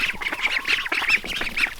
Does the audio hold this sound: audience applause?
no